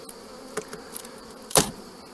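Honeybees around hives at an apiary, heard as a faint, thin buzzing with a few brief louder passes as individual bees fly close, the strongest near the end.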